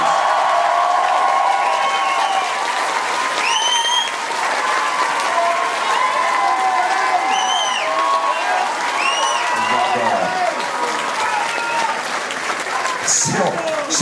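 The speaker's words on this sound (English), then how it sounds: "So please give a round of applause." A crowd applauds and cheers through an evening Q&A event, with sustained clapping under whoops and whistles. A voice or two carries over the noise.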